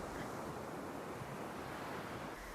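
Ocean surf washes steadily onto a beach in a continuous, rushing hiss with some wind buffeting the microphone, close and even throughout, with no voices.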